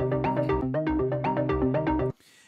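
A looped pattern played back on a Roland SPD-SX Pro sampling pad, unprocessed original version, runs loud and steady in repeating bars, then cuts off abruptly near the end, leaving only faint hiss.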